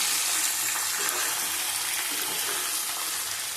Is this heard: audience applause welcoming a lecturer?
no